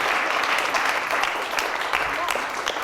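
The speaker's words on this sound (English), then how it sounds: "Round of applause again for him." Brief burst of warm applause from a theater audience at a magic show, dense clapping at moderate distance with a voice faintly beneath it.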